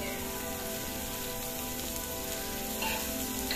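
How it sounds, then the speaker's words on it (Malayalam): Sliced onion, cut lengthwise and salted, fries in a pan with a steady, even sizzle that runs unbroken from start to finish at moderate loudness. "ഇനി ഈ സവോള നന്നായിട്ടൊന്ന് ബ്രൗൺ ആയിട്ട് വരട്ടെ."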